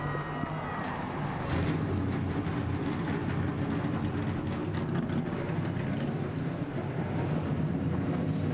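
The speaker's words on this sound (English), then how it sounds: "All of the engines are fired up." Race trucks at Kentucky Speedway for the 2007 NASCAR Craftsman Truck Series Built Ford Tough 225, engines just fired up, make a steady, dense rumbling roar that holds without a break, with wind buffeting the microphone.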